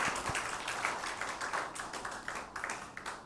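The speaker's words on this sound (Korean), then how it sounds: "우리 우원 성도님 축하의 박수 보내드리도록 하겠습니다" Church congregation at a Sunday service claps in congratulation, a steady patter of many hands across the room, fairly soft and diffuse, continuing without talk.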